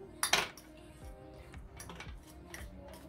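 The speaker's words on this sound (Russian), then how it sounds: "Я его не буду сильно разминать прям в пюре, просто вилочкой вот так немножко его до однородности помну и достаточно" Boiled potatoes mashed with a fork in a bowl, giving soft, irregular scraping and tapping clinks of metal against the dish, quiet and close with no talk.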